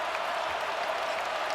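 A college basketball arena crowd roars and applauds after a deep three-pointer in a Tennessee vs Wisconsin game, a dense, steady wall of cheering with no clear voices above it.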